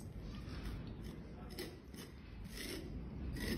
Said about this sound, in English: I just scrape over everything to blend it in nicely while it's still wet.